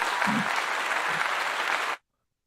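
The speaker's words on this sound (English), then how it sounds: "Let me give you a clap" Crowd applause rolls steadily for about two seconds, a dense even clatter of many hands, then cuts off abruptly into silence.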